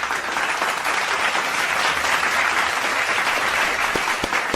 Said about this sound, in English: Can we get a round of applause for Shlow?